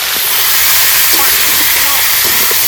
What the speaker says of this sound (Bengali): এই মাংসটা আমি অল্প অল্প করে তেলে ভেজে নেব